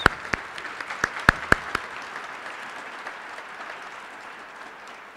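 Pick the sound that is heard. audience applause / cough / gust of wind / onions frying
audience applause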